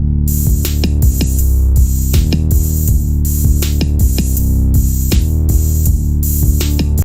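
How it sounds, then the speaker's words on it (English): A loud hip-hop beat with punchy kick and snare hits in a steady groove, bass notes and synth layers, no voices. "pretty hot sounding beat"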